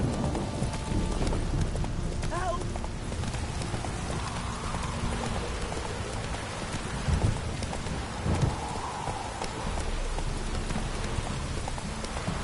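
Hooves of Roach, Geralt's horse in The Witcher 3, clip-clop at a trot under a dense bed of rain and rumbling game ambience, the footfalls soft and partly masked.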